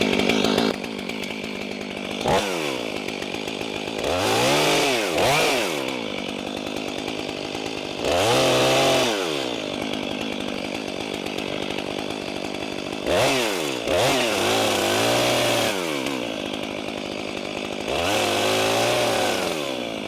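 A chainsaw cuts firewood logs close up, its engine droning at idle then revving hard in several bursts as the chain bites into the wood, pitch sweeping up and down between cuts.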